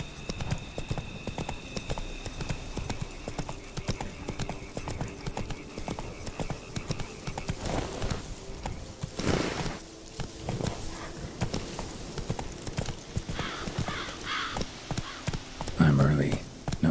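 Roach, the horse from The Witcher 3 video game, gallops with a steady rapid clip-clop of hooves, close and continuous, with brief swells of other game sound and a voice speaking over parts of it.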